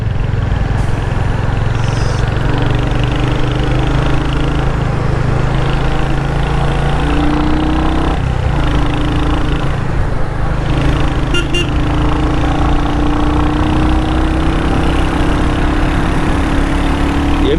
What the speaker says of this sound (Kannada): ಅದೇ ಇಂಜಿನ್ ಅಂದಮೇಲೆ ಕೇಳಲೇಬೇಕಿಲ್ಲ.